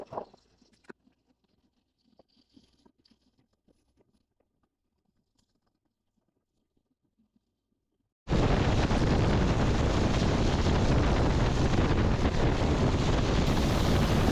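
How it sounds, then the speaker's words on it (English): Riding a Voge 525 DSX motorcycle on a long road trip from Nairobi to Malindi: a near-silent start with faint scattered knocks, then a sudden, loud, steady rush of wind and road roar for the last six seconds. "This motorcycle is powerful."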